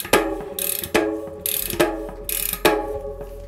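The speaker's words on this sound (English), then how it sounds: "using your adjustable spanner, or if you've got one, put the hole into a vise and spin it around, basically, and it will find its way on. Pretty much use it like a ratchet." A cassette lockring tool is turned like a ratchet on a bicycle, giving close, loud clicking ratchet passes, each a quick series of pawl clicks, repeated about four times in a steady back-and-forth rhythm.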